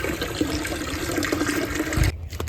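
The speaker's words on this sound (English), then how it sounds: "we're just gonna fill the rest up with rainwater here" Rainwater poured into a bucket to top up a homemade organic fertilizer brew of weeds and plants, a steady close splashing pour that runs continuously, then stops abruptly near the end.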